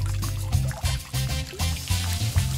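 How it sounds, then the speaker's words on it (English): Water pours steadily into a turtle tank, a close continuous splashing and gurgling stream without pause. "And let's turn the water on!"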